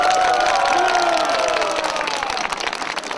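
A large outdoor crowd at a political rally in Rădăuți, Suceava claps and cheers loudly for a party representative, with whoops and high shouts rising over dense applause that fades slightly toward the end.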